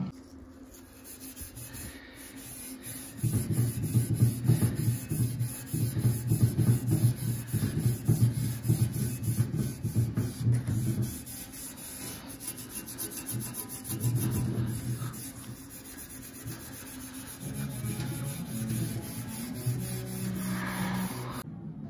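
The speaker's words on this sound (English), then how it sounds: "you can kind of go back and forth, and it just kind of takes the shine off and gives it a bit of a brushed look to it" Hand-rubbing a part from a 1986 Suzuki GSXR 750 restoration to a brushed satin finish makes a rhythmic rasping scrub that comes in bursts and pauses, with quieter stretches between them.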